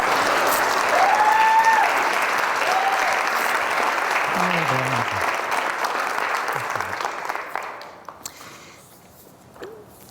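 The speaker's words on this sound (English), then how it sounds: "Let's give him a big round of applause." An audience applauds a performer introduced at an arts event, a loud sustained wash of clapping that gradually thins and tapers off toward the end, with faint voices underneath.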